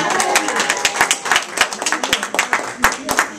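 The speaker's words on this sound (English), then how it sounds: "do we get to do a rousing applause?" Scattered clapping from a seated audience, a loose patter of hands building into modest applause, with a voice speaking over it.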